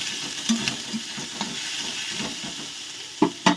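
Garlic hits hot mustard oil in a pan, giving a steady faint sizzle with a few sharp crackles and stirring clicks, louder pops near the end, no voices.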